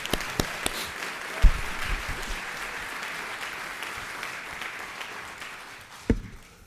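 A round of applause from the audience at a police department service awards ceremony, steady crowd clapping throughout with a few louder sharp claps near the start and end.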